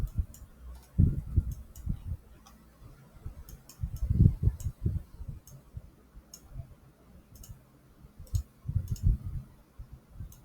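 Keystrokes on a keyboard while entering a trade note, appearing as scattered light taps and clicks at close range over a low background hum, with no talk.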